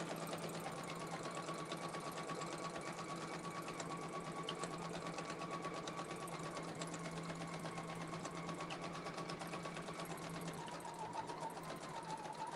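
A quilting sewing machine stitches a design in one long, even run, its fast needle clatter and motor hum holding steady and close throughout with no voices.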